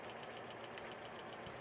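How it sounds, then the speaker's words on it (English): A car engine idles steadily close by in desert country near the Owlshead Mountains, a constant low mechanical rumble with a faint knocking texture that stays level and unbroken from start to finish, with no one speaking. "Sorry about the car noise, but it's running behind me."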